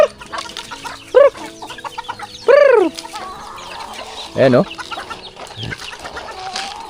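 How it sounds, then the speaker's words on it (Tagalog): Several chickens, a rooster among them, on a farm give short clucks and calls in separate bursts, fairly close, while someone talks briefly in the background. "nagtatanda din to mga manok na to eh"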